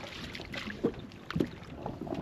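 A small boat being rowed and turned on open water near a sailboat off the Croatian coast, with a few close splashy oar strokes amid steady wind and water wash, no talking.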